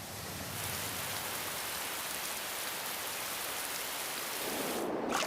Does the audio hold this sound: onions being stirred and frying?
no